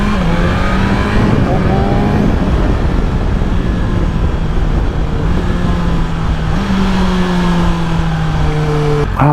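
A 205-horsepower motorcycle accelerates hard, its loud engine whine climbing steadily through the gears and shifting several times, close and continuous with wind roar.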